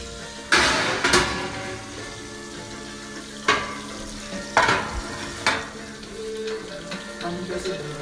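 Stuffed chicken frying in a pan while being stirred, with a soft continuous sizzle broken by several sharp scraping and clattering strokes of a utensil against the pan, close up with no talk.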